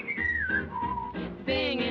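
A person whistles a bright, cheerful tune from a 1941 musical comedy film song, the melody gliding between notes in clear sustained phrases, close and alone without talking.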